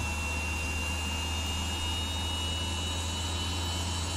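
Jet engine of a Hawk T1/A advanced trainer in a flight simulator during engine start, a steady whining roar with a high tone over a broad hiss and low hum, constant and fairly loud, no voices.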